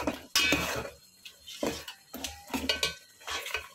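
Mutton for Peshawari nimkeen gosht being stir-roasted in a pan over high heat, with a metal spoon repeatedly scraping and clanking against the pot in uneven bursts, close up, over a faint sizzle.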